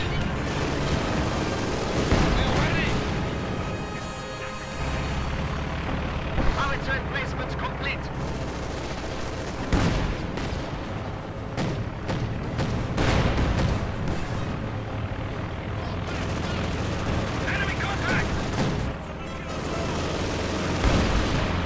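Battle sounds from the Company of Heroes 2 video game as a howitzer is destroyed, with booming explosions, bursts of machine-gun fire and artillery crackling continuously at full loudness, layered and dense.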